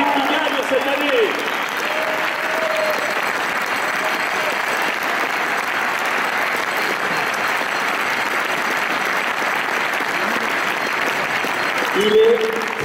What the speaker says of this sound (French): Et ça mérite un peu plus d'applaudissements, là.